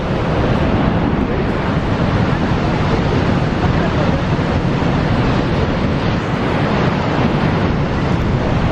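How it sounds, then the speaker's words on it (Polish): Niagara Falls pours with a loud, steady roar of rushing water and mist, a dense unbroken wash of noise with wind buffeting the microphone throughout. "Może zobaczyć ile po prostu wody się przewala."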